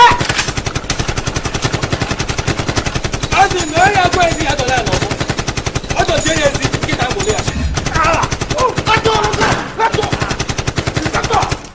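Rapid automatic gunfire rattles almost continuously through a scene in a Nigerian action movie, loud dense bursts with brief pauses and shouting voices mixed in.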